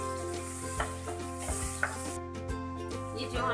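Onion, green chili and garlic paste sizzling in hot oil in a kadhai on a low gas flame, a steady close crackle with a few scraping stirs and light knocks of a spoon.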